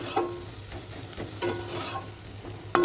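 Prawns stir-fry in a pan for a Bengali thankuni leaf dish, with a low steady sizzle broken by periodic scraping strokes of a spatula and a sharp clatter at the end.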